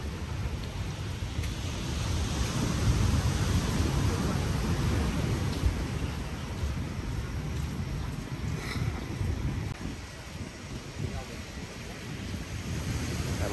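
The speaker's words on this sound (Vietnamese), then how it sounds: "gió biển nó thổi vô nữa" Sea wind blows hard across Nha Trang beach in the late afternoon, a steady broadband rush with gusty swells and crashing waves beneath, continuous and fairly loud throughout.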